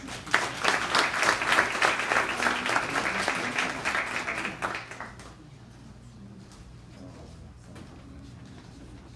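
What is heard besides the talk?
audience applause at awards ceremony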